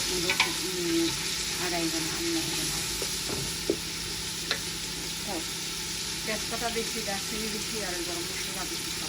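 Spices frying and being stirred in a large pot for a mutton head curry: continuous hissing sizzle with intermittent scraping and clinking of a spoon against the metal, a voice talking now and then beneath it.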